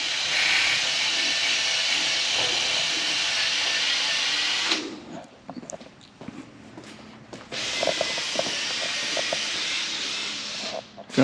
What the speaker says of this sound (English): Taking an eraser wheel,